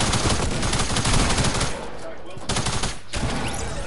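Pistol fire in a video game shootout: rapid, loud, closely spaced shots that crackle almost continuously, ease briefly, then pick up again.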